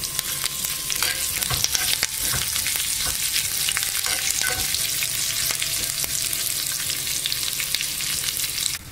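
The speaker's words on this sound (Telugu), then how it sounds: "తాలింపు వేగిపోయింది." Red chillies, chana dal, urad dal, mustard seeds, cumin and curry leaves tempering in hot oil for a tomato chutney, giving a loud continuous sizzle with sharp popping crackles, close up and with no voices.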